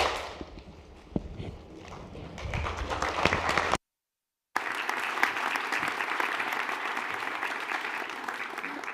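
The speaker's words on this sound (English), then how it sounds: "I would like to end this with one last and final collective clap." A single sharp clap, then a room full of people at a nursing pinning ceremony bursting into sustained loud applause that continues after a brief cut of silence.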